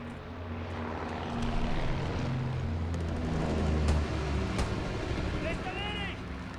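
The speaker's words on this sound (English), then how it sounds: "Deny the enemy recon aircraft in the air." An enemy recon aircraft drones overhead in the World War II shooter Call of Duty: WWII, a steady propeller engine hum under continuous game ambience with distant crackles and a brief whistling sound.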